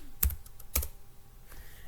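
Keys on a computer keyboard are pressed in a quick burst of a few soft clicks, then another short run of taps, quiet and close, with no speech.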